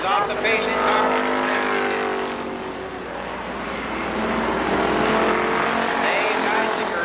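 Race cars roaring around Columbus Motor Speedway, a loud continuous engine drone that dips and swells as the pack laps, with a voice talking over it.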